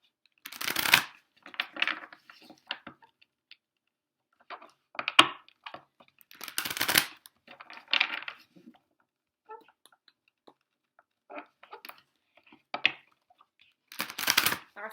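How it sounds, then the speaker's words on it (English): Bursts of tarot cards being shuffled, crisp riffling and flicking in several separate flurries with pauses between, close and fairly loud. "we're just going to shuffle these cards up a bit"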